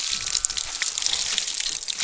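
Water drawn from a ten-meter village borehole on a Malawian farm gushes and splashes in a steady, close, bright rush, heard alone without voices.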